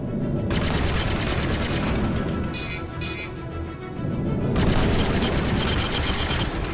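Missiles fire in a flight-training video game as a loud, dense, continuous barrage of gunfire-like bursts and booms, with a brief dip in the middle before it surges again.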